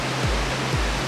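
The river rushes through Rugova Canyon in Kosovo far below a glass walkway, a dense, unbroken roar of water with a couple of brief low thumps.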